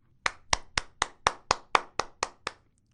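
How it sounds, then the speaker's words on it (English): Ten evenly spaced claps from children in a primary school science lesson, crisp and close in a quiet room, forming a brisk steady rhythm that stops cleanly. "Can you clap for yourselves?"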